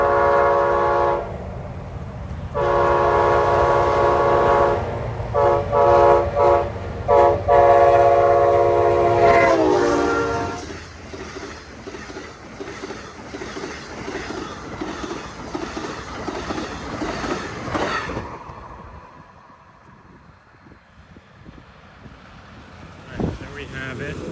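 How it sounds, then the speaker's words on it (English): Amtrak Silver Meteor passenger train, led by a P-42DC locomotive, passes northbound at full speed of about 79 to 80 mph through J.W. Corbett Wildlife Management Area in Palm Beach County. A loud sustained horn blast gives way to a rushing roar of wheels and cars that fades away. "Amtrak Silver Meteor, northbound at J.W. Corbett Wildlife Management Area in Palm Beach County."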